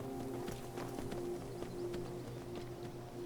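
Horse hooves clopping along a road in the Skyrim video game, a steady, continuous clip-clop rhythm under a droning game soundtrack with a low hum, moderately quiet throughout.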